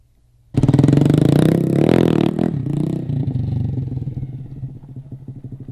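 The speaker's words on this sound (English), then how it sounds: "Sounds like a four-wheeler." A small motorbike engine suited to a backyard Grom track, sounding much like a four-wheeler, bursts into a loud, close buzzing rev that peaks and then settles into a steady, slightly clattery idle.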